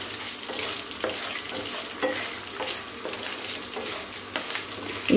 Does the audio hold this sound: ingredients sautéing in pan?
yes